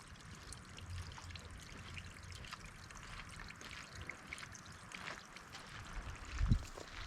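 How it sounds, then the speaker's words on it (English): Steady broadband rushing of water runs throughout, like a distant waterfall in Spearfish Canyon, South Dakota, after heavy rain, with a brief low thump near the end. "And I can hear water."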